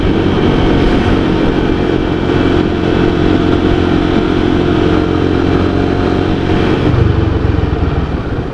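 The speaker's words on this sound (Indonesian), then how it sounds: "motor juga masih rame" Steady, loud roar of night street traffic in Klaten, Indonesia, with motorcycle engines and cars passing close by continuously, no pauses.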